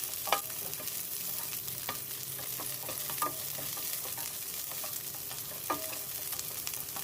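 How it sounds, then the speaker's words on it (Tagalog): Pounded garlic sizzles and fries in a hot pan, a soft, continuous crackle with a few sharper pops and stirring scrapes. "pwede na natin ilagay ang ating garlic"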